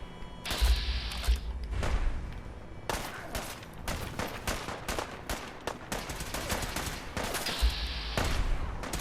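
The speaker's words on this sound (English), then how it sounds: "Are they shooting at him?" Gunfire in the video game Fallout 4: repeated bursts of shots and thudding impacts rolling through a battle, dense and fairly loud with brief lulls between volleys.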